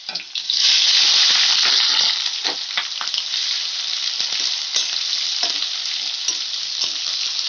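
Thin, long-sliced onions sizzle loudly in hot oil in a pan, a bright continuous hiss that eases slightly after the first seconds, with occasional stirring clicks.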